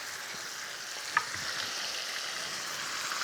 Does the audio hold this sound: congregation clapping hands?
no